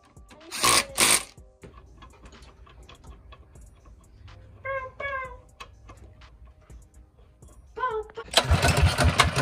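Mini bike engine with a Stage 2 upgrade kit, started on choke: the motor catches and roars up loudly at the end after earlier clatter, brief cranking bursts and a voice in the background.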